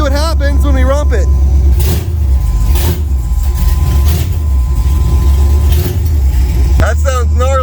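A freshly wired car engine revs up loudly in several surges over a deep running rumble, with voices talking at the start and end.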